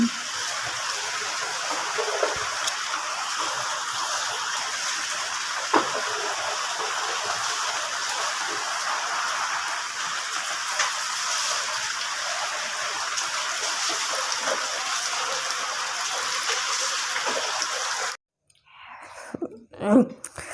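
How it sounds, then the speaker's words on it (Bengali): A torrential downpour makes a dense, steady roar of water that holds evenly for most of the stretch, then cuts off abruptly near the end, leaving a few faint sounds. "মুসলধারে বৃষ্টি হচ্ছে এখন"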